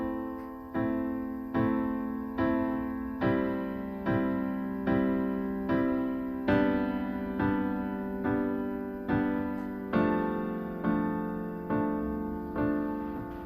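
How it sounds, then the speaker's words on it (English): Piano chords struck in a steady, even rhythm, each one ringing into the next so the notes smear together under a held sustain pedal. "That's me holding it the whole time, and as you can hear, those notes will blend together"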